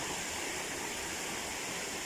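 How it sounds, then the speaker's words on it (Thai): Steady, full roar of water spilling over a cut weir on a stream at Ban Nam Chuang, Phitsanulok, Thailand, a dense constant rush filling the whole clip with no breaks and no voices. "ทำน้ำตกตัดปากกั้งนะครับ"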